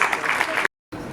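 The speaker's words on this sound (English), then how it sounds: "Let's give a huge round of applause." Audience applause, brief and fairly loud, as a steady broadband patter that cuts out abruptly partway through and then resumes.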